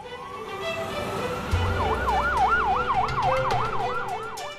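An ambulance siren in India wails in a fast, regular up-and-down pattern at moderate distance, with a low vehicle rumble joining partway through.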